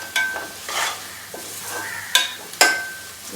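Spices stirred and fried in oil for a Pakistani summer vegetable dish with ridge gourd, a steady sizzle broken by several scraping stirs of a spoon in the pan, close and fairly quiet, with no talk.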